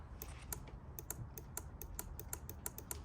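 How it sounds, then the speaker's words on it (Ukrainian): Sharp, sparse clicks from the horn relay in the fuse box of an Opel Corsa D as the horn button is pressed, about a dozen quick ticks at an irregular pace against a quiet background. "Релюшка клацає, чуєте, да?"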